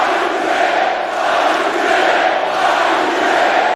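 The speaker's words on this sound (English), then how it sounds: "the crowd is screaming, Y2J" A large WWE Raw arena crowd roars and chants Y2J for Chris Jericho, a dense, loud, continuous wall of voices with a pulsing rhythm.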